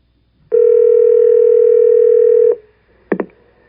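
A steady telephone dial tone hums loudly for about two seconds during a phone call, then cuts off, followed by a couple of short clicks as the handset is handled.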